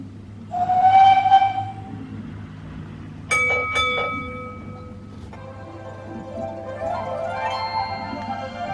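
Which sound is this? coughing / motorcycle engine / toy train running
toy train running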